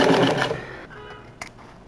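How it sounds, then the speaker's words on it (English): Sewing machine running a straight stitch along pant fabric: a brief burst of fast mechanical whirring that cuts off after about a second, followed by a quiet pause and a small click. "Just run myself a nice straight stitch."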